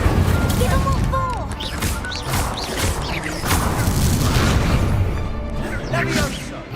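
Fire spell blasts and crashing combat effects from a wizard duel in the Hogwarts Legacy video game, dense overlapping impacts and booms over continuous game sound, with voices speaking through it.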